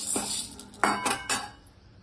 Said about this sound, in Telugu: శనగపప్పు వేయిద్దాం, ఎందుకంటే ఇది వేగడం కొంచెం లేట్ కాబట్టి. ఇలాగా దోరగా వేయించుకోవాలి.